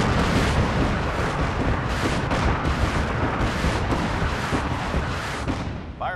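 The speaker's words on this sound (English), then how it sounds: "This will allow you to call in artillery by targeting enemy players." Rumbling artillery barrage in Fallout 4, a dense, continuous roar of overlapping booms and blasts that stays loud for several seconds, then eases slightly at the end.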